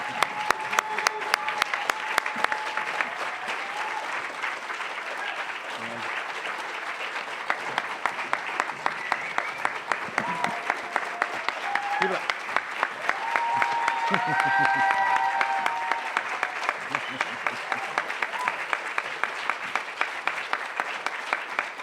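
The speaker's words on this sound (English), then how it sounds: "please join me in applauding her many years of outstanding service to Oregon nonprofits" Sustained applause from an audience at a nonprofit association's annual meeting, with dense, even clapping lasting over twenty seconds and a voice speaking beneath it.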